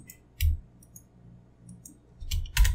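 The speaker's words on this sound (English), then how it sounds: "We're just holding Control and clicking and then pressing Delete to get rid of it." Computer mouse clicks while editing shapes in Adobe Illustrator, a few sharp, close clicks spaced irregularly, with a quick double click near the end, in an otherwise quiet room.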